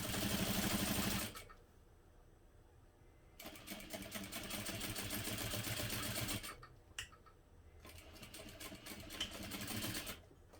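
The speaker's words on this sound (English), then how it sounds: "I'll backstitch a few stitches at the beginning." A sewing machine stitches through vinyl at a long stitch length, running in bursts of rapid, even mechanical chatter. Short pauses break the runs, and it is close and fairly quiet, with no talking.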